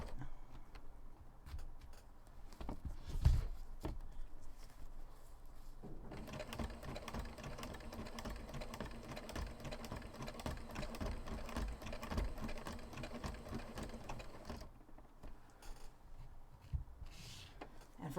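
A sewing machine stitches a corset in long steady runs, loud and continuous through the middle with brief pauses before and after, and no talk.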